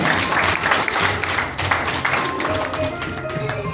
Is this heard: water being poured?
no